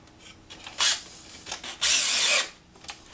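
Power drill driving screws into a wooden wine rack, with two distinct whirring bursts, the second longer, separated by brief handling rustles.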